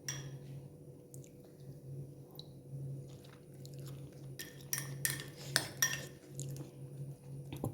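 A pot of okra curry with buttermilk is stirred, faint at first over a low hum, then a cluster of wet squelches and spoon clinks against the pot near the end.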